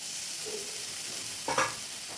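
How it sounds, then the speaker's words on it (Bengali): Spice paste with onion and tomato frying in oil in a pan, a steady soft sizzle, then a brief louder scrape of stirring near the end. "আর একটু ভেজে নেব তেলটা ছেড়ে দিক মশলার সাথে পেঁয়াজ টমেটম ভালো করে দেখো আমি কষিয়ে নিয়েছি"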